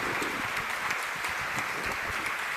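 Sustained applause from a standing audience at a public event in Pune honouring actor Mukesh Khanna, steady and dense throughout without pause, with no clear talk over it.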